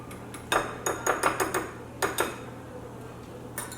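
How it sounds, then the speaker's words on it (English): Ground meat being mixed with ingredients in a bowl for a keto bacon cheeseburger pie, heard as a run of close, irregular clinks and soft knocks of a utensil against the bowl, several quick hits in bursts with pauses. "we're going to mix all of this up with the meat"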